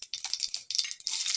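Mustard seeds pop and crackle in hot oil, a dense flurry of sharp, hissing spits and crackles close by, rising and falling in quick bursts.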